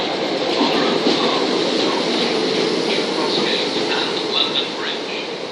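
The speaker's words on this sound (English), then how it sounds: "There is a fast train coming through" A fast train roars through South Croydon station on the Brighton Main Line, a dense, constant rush of wheel and air noise close by that stays loud throughout.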